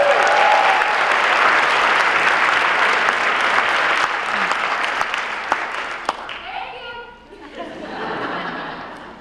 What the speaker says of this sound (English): So you're clapping